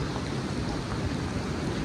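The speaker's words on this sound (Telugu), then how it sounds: "ఒక పక్క వర్షం, ఇంకో పక్క సముద్రం బీచ్." A steady, unbroken roar of surf washing ashore at Calangute beach, Goa, blended with the hiss of heavy rain and some wind buffeting, constant throughout.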